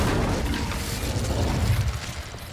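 An Incendio fire spell goes off in Hogwarts Legacy as a dense, loud roaring whoosh of flame with a heavy low rumble, sustained across the whole moment with no voices.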